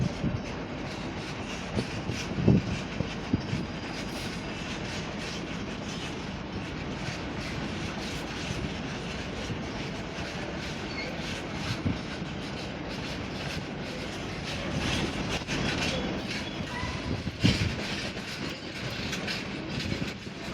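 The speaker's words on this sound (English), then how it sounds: "Passing through now is 60054 River, CB Schenker service to God knows where." A Class 60 locomotive, 60054, hauling a DB Schenker freight train past a station, a long continuous rumble of wagons with rhythmic wheel clacks and occasional louder knocks, sustained throughout at fairly close range.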